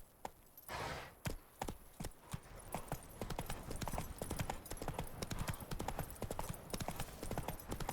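Roach the horse in The Witcher 3 trots with rapid, rhythmic hoof clops, fairly close and continuous, accompanied by light creaks and a brief breathy snort near the start.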